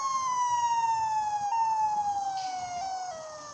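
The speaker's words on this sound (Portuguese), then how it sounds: "O som da sirene do carro da polícia." A police car siren in the video game GTA 5 wails steadily and slowly falls in pitch, moderately loud over a low, rumbling background.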